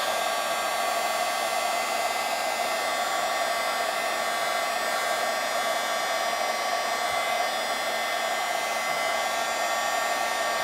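A handheld embossing heat tool blows a steady, loud stream of hot air to melt embossing powder over a watercolor-stamped card, a constant whirring hiss that runs unbroken and close throughout.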